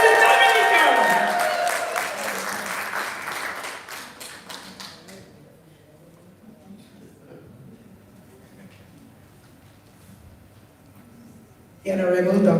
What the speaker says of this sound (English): Let us give them a wonderful round of applause